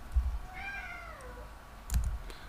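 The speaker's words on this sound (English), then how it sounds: "that's my cat, he wants to be let out." A house cat lets out one drawn-out meow near the microphone, followed by soft thumps and clicks that sound like a keyboard.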